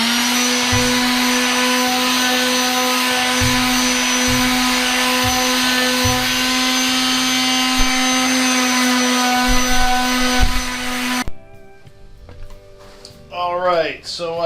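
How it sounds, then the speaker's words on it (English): A palm sander eases the corners of a wooden hall table top with a loud, steady motor whine for about eleven seconds. It then cuts off, leaving quieter knocks and handling sounds. "I am going to use my palm sander to ease these corners"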